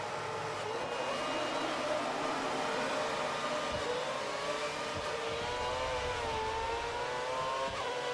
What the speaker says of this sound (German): Viel Wheelspin wieder gehabt.